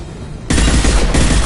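Gunfire in the video game Mass Effect 2 on a Geth station, a sudden loud burst of rapid shots that kicks in partway and continues densely to the end.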